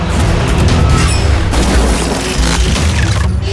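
A phantom spider attack strikes in an animated car cartoon, producing a loud, continuous booming roar of crashing impact noise that barely lets up for several seconds, with no talking.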